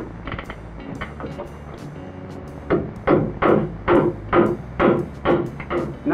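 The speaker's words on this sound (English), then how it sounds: "Necessary to toenail the joist into the beam on both sides." Nails are hammered to toenail a ceiling joist into a beam while building a basement fallout shelter, with a run of about eight sharp, close, evenly spaced blows after a quieter opening.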